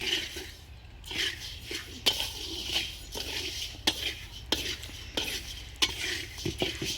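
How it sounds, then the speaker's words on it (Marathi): Coriander seeds being dry-roasted in a pan over a wood-fired stove, stirred with a metal spoon that scrapes and clinks in repeated strokes, with a soft rattle of seeds between the strokes. "असं धनं भाजायला लागतं"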